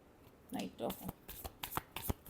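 Tarot cards shuffled by hand in a quick series of crisp riffling bursts and sharp slaps, close up, with a voice speaking at times in between.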